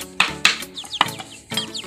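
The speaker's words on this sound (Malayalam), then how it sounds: "എന്നെ കാണാൻ ആയിട്ട് കോഴിയെല്ലാം വന്നതാ" Several chickens cluck close by in short, uneven bursts, a few sharper calls standing out over a quiet background with no talking.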